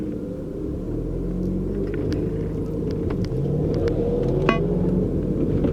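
A truck's engine rumbles past, a deep, steady low roar that holds for several seconds and swells slightly louder toward the end, with no voices over it.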